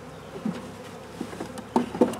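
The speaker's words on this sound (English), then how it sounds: "There's so many bees. It is just incredible. And when they land on you, the buzzing is just, it's just incredible." A swarm of honey bees buzzes close by, a steady drone with individual bees whizzing past in brief louder passes, no voices.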